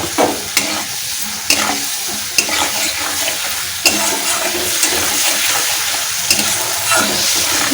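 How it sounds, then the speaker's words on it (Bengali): Ground spices and tomatoes frying in a pan for a vegetarian gram flour and potato dish, a steady close sizzle broken by repeated scraping strokes of a spoon stirring the masala, with no voices. "এই গুঁড়ো মশলাটা একটু দিয়ে নাড়াচাড়া করবো। টমেটোগুলো দিয়ে দেবো বন্ধুরা।"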